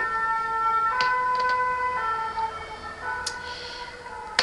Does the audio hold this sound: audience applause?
no